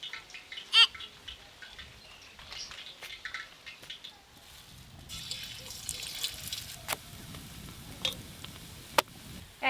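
Big slices of eggplant batter-fried into beguni fritters crackle in hot oil, faint scattered pops at first, then building into a steady hissing sizzle with sharp spits and crackles.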